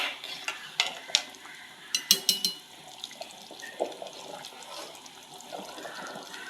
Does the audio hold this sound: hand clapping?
no